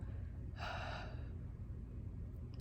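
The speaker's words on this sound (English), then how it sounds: "Exhale out the mouth." A single breath exhaled through the mouth during a guided breathing exercise, one soft, airy whoosh lasting about a second that fades into quiet room tone.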